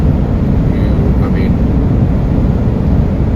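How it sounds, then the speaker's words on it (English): A Ram 2500 diesel pickup engine idles quietly as a steady low rumble, constant and close throughout, with no other clear sounds over it. "This diesel engine is very, very quiet"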